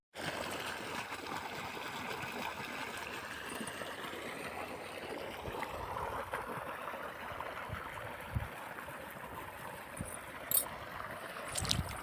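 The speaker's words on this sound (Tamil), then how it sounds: "இப்போ செடிக்கு தண்ணி பாய்ஞ்சிட்ருக்கு." Irrigation water flowing steadily into a bed of marigold plants in a village field, a continuous outdoor rushing and trickling wash with a few small splashes near the end, no talking.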